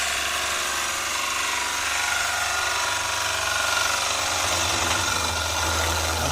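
A wood lathe spins an ogee bowl while a gouge takes fine finishing cuts. A continuous, fairly loud broadband whir and hiss of tool on wood holds steady, with no one talking.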